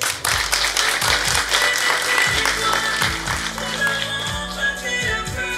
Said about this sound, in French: On peut leur adresser d'ailleurs nos premiers applaudissements